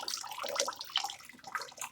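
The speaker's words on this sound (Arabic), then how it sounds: "نغسل بميه خالص بالشكل ده اهي" Tap water runs and splashes over cooked pasta being rinsed, a short uneven burst of close, bubbling water.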